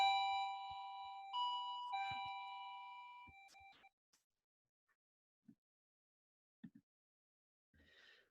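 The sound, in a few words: doorbell ringing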